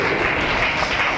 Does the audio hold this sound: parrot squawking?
no